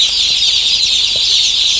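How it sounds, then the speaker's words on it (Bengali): Chickens cluck and chatter continuously in a noisy, bright, steady din with no voices. "গরমের মুরগিগুলো খুব চঞ্চল থাকে"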